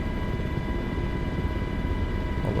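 Continuous helicopter rotor drone with a low, pulsing thrum and steady engine hum, loud and close throughout, no talking.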